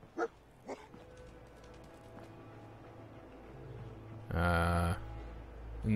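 Dog in Fallout 4 giving two short yips near the start, then a louder burst of barking and whimpering toward the end over quiet game ambience.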